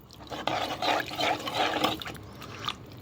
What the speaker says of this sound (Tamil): இந்த நேரத்தில் வந்து தண்ணி ஆட் பண்ணிக்கோங்க தேவையான அளவு